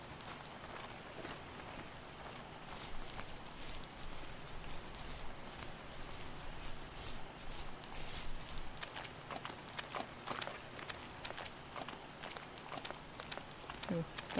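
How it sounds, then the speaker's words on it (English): Footsteps in The First Tree, a steady run of soft, crisp patters, faint and evenly spaced, continuing for many seconds like light rain tapping a surface. "Ooh, don't like this new footstep noise."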